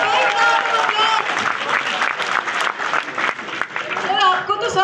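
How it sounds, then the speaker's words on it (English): Applause fills a university workshop room on personal branding, a dense, steady clapping from the audience mixed with lively voices and chatter throughout. "Give him a big round of applause."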